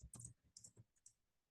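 Keystrokes on a computer keyboard during a Python coding session, a few quick bursts of clicky taps with short pauses, close and fairly faint, ending in one louder knock.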